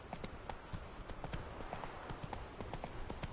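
Horse hooves clip-clop in steady repeated beats in The Witcher video game, close and clear across the whole stretch with no talk over them.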